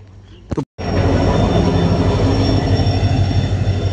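A train rumbles into a station near Bongaigaon, loud and close, a heavy continuous roar with a faint high whine over it, after a brief clatter and pause.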